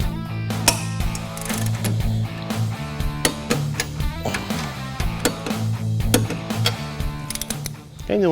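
Ratchet tightening the strut nut on Maximum Motorsports caster camber plates fitted to a 1990-1993 Ford Mustang, giving a run of close mechanical clicks with brief pauses, while a low background hum continues underneath.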